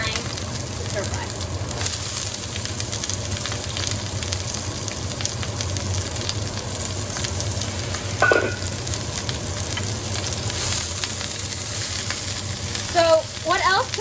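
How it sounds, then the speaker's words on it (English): Bok choy stems stir-fry in a hot pan with a steady loud sizzle and occasional scraping stirs. Someone talks over the cooking. "I'm gonna add first the stems. Why? Because the stems take longer to cook and they need more time to stir fry"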